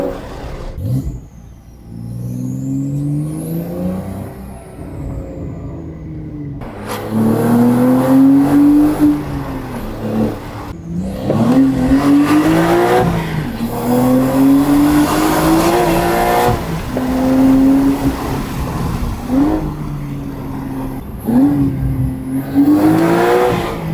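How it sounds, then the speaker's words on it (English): A Porsche 992 Turbo with a titanium exhaust and free-flow bypass drives hard, its engine rising through gears in repeated climbing pulls with brief dips between shifts, loud and close, with occasional tire noise. "Car really has that nice 917 type sound."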